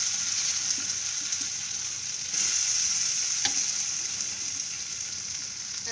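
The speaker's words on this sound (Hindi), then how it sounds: "तो ये जो हमारे गट्टे के स्लाइसेस हमने बनाए थे वो इसमें डाल देंगे।" Besan gatta slices frying with browned cumin in a pan, a continuous close sizzle with a brief surge of crackling partway through and a single soft tap, no talking.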